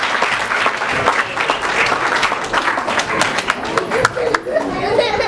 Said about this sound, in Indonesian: Berikan tepuk tangan dulu buat anak-anak yang naik atas